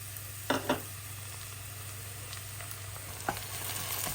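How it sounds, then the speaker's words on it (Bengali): Chopped onion and garlic fry in mustard oil, a steady close sizzle with a few brief scraping stirs of a spatula in the pan. "একটু নেড়ে চেড়ে ভাজা ভাজা করে নেব"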